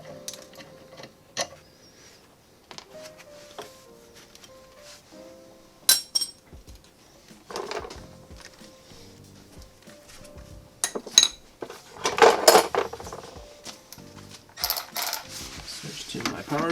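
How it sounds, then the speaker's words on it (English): A ratchet and socket work a stuck banjo brake fitting in rear brake replacement, giving sparse clicks and clinks at first, then denser metallic clatter and ratcheting toward the end, close and moderately quiet. "So you use a socket up here and a ratchet on the bottom."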